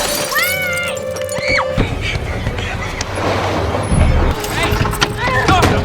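A car window smashed in a movie scene: a loud, sudden shatter of glass bursting through a dense, noisy mix of music and effects, with a voice heard over the commotion.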